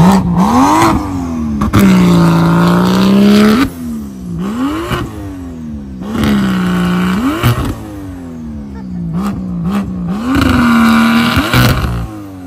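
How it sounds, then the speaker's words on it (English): A single-turbo show car's engine revs hard several times in close succession, each rev rising and falling loudly with a rough, throaty edge between bursts. "he's gonna go ahead and rev it right now"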